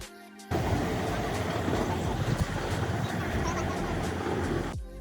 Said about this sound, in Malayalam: അങ്ങനെ നമ്മൾ ട്രെയിനിൽ കയറി.